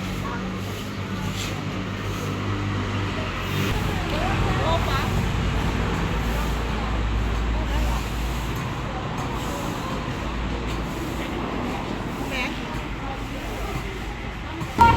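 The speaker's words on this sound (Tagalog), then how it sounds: "So dito siya along the highway lang siya no." Highway traffic passing nearby, a continuous low roadway rumble with vehicles swelling and fading, heard under intermittent voices talking.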